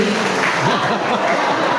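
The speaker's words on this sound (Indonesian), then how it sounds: "Tepuk tangan dong sekali lagi." A church audience applauds at a parish pastor handover ceremony, producing steady, loud, dense clapping that fills the short stretch with a voice faintly underneath.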